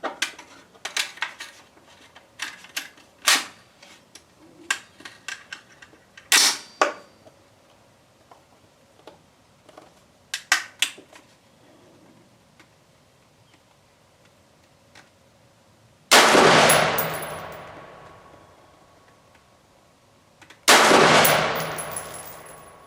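An AR-15 rifle chambered in .223 Remington firing PMC Bronze ammunition at a range, two loud, sharp shots seconds apart, each with a ringing decay, after a stretch of small metallic clicks and handling noises.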